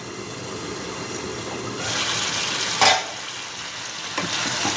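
A curry simmers in a pan and is stirred now and then, giving a steady low sizzle and bubbling, with a brief louder scrape near the middle.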